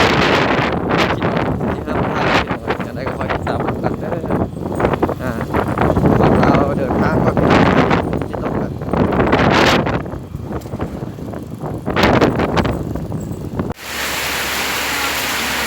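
Storm wind roars and gusts in heavy surges against the microphone, with a dense wash of driving rain running underneath throughout.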